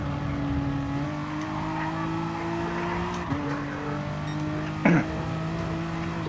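A race car in Gran Turismo 7 holds a steady engine drone with shifting pitch as it brakes through a tight corner and accelerates out. A brief tire scrub near the end, mid-level and continuous.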